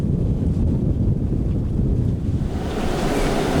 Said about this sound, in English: So, first of all, it's very windy.